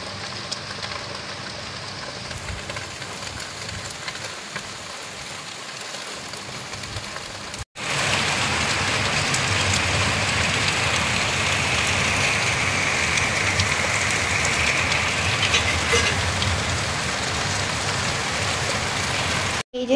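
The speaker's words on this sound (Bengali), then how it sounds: "ঝমঝমিয়ে বৃষ্টি হচ্ছে।" Heavy monsoon rain pours down outdoors under a darkened sky, a dense steady hiss that starts softer and then becomes a loud, unbroken downpour for most of the stretch.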